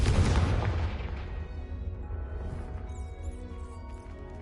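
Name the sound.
Confringo explosion spell in a Hogwarts video game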